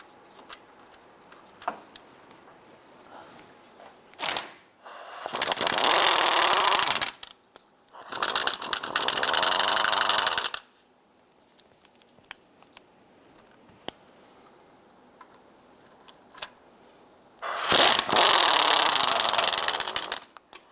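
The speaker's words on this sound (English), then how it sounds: "Using our 18mm swivel socket and extension, we're going to go ahead and loosen and remove all 3 of these bolts." An 18mm swivel socket on an extension loosens three bolts on the differential bracket of a 2002-2008 Dodge Ram 1500, with faint ratchet ticks between three loud, harsh bursts of tool noise.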